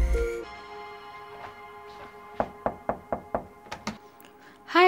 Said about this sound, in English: Let us knock the door.